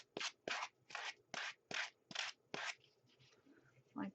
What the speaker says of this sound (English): I'm going to take the sander from Color Coordinations cardstock, and I'm just going to sand down these edges